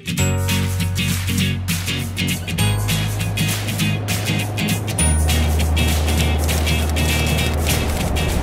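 A car rolls along toward a football stadium, with a steady engine and road rumble from inside, gear-like shifts in pitch and scattered clicks and rattles throughout.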